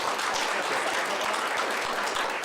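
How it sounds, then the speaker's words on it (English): A roomful of people at a volunteer recognition breakfast give a round of applause, a dense, steady patter of clapping that fills the space evenly with no voices over it. "So how about a round of applause for each of you for your work."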